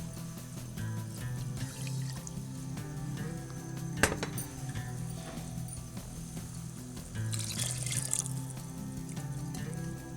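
Water poured into a pot of mutter pulao, with a continuous splashing pour and sizzle, a single sharp clink partway through and a louder gush near the end.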